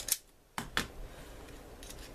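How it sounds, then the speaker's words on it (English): Scissors snip through heavyweight cardstock in a few sharp, close cuts, three quick crisp clicks early on followed by quieter rustling. "I think I'm going to cut these down just a little bit."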